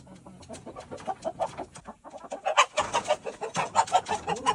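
Chickens cluck repeatedly at close range, a busy rhythmic series of short calls that grows louder and denser partway through, with no talk.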